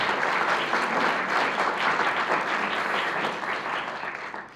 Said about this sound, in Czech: tak vás poprosím ještě jednou o potlesk pro rozhlas